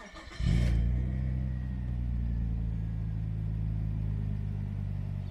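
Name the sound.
1998 Nissan Skyline R34 25GT engine starting with exhaust silencer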